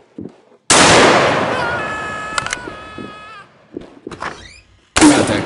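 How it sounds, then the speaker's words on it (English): A breaching shotgun blast in the police tactical game SWAT 4: one sharp, loud bang that rings and decays over a few seconds, then brief clatter and another abrupt burst at the end. "Breaching shotgun ready."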